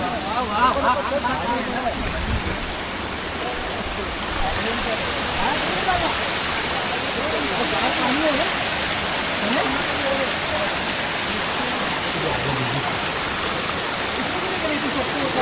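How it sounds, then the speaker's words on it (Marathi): A small monsoon waterfall on the Visapur Fort trek roars as a steady, loud, broadband rush of falling water, continuous and close, with voices faintly mixed in beneath. "आता इथं बघू शकता आपल्याला हा धबधबा क्रॉस करायचा इथून छोटासा आहे"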